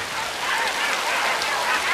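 Rain falls steadily and fairly loud, a dense continuous hiss of drops on surfaces with no pauses and no voices.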